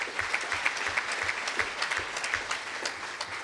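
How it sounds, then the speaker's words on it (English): An audience claps steadily through an outgoing president's speech, a moderate, even round of applause with no voices over it. "I would like to thank him with a round of applause."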